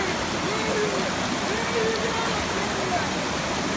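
A small waterfall stream rushes in a steady, broadband wash of water, continuous and fairly loud throughout, with a faint voice barely audible beneath it.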